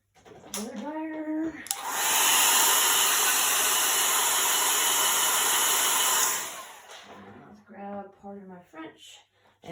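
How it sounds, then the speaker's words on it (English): A blow dryer switches on for about four seconds of loud, steady, close rushing air while drying a chalk couture craft piece, with people talking before and after. "blow dryer."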